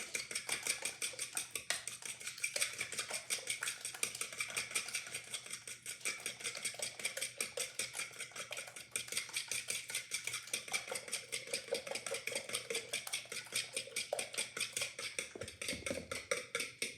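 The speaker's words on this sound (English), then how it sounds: "Into my mixing bowl, and I'm going to whisk them until there aren't egg whites left." Egg whites whisked in a mixing bowl, a fast steady rhythmic clicking and tapping of the whisk against the bowl, continuous and close throughout.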